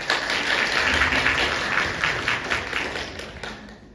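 An audience claps together at a Squid Game–style quiz contest for a 9th-grade class, a dense burst of steady applause that stays loud and then tapers off toward the end.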